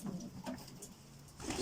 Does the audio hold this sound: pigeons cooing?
yes